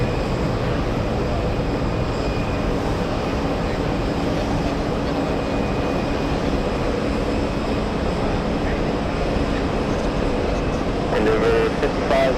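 An airliner takes off from runway 22 right at JFK airport with a loud, continuous broadband roar that holds steady for about twelve seconds, with faint voices beneath it.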